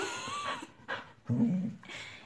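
A dog whimpers and whines in short, high bursts at close range, with a low grumbling growl in the middle, sounding soft and breathy.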